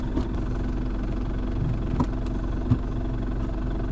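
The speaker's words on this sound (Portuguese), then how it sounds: "Eu gosto muito do ruído desse motor." A Chevrolet D20 double-cab pickup with an S4T diesel engine idles at a steady low rumble, fairly quiet, with faint clicks and knocks over the drone and no speech.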